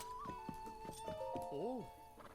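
In Zelda: Breath of the Wild, a horse's hooves clop in quick steps and a neigh rises and falls near the end, with game music and a voice talking underneath.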